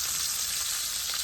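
Garlic frying in oil rendered from pepperoni makes a dense, continuous sizzle, loud and close, with no speech over it.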